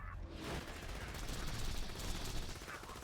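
Rapid gunfire in the Borderlands 2 video game, a dense, continuous burst of loud automatic shots and explosions filling the moment, with game noise layered over it.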